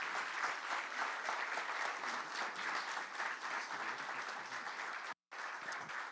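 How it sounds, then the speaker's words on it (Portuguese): A church congregation claps together during a family service, a full, sustained burst of applause that carries on evenly with a brief dropout near the end. "Vamos aplaudir novamente os irmãos."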